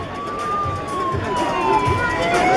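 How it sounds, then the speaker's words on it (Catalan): A wailing siren rises and falls steadily in the distance, heard over a busy background with low rumbling, at the finish of a New Year's Eve road race in El Masnou. "Sentim les sirenes."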